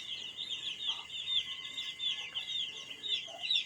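Young chicks chirp steadily and densely, a continuous high peeping chorus with a few soft pecking taps underneath, close by and fairly faint overall.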